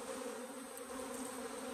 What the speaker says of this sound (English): Whenever you shake a swarm into a box, you'll always get these bees that will go back up to where they were before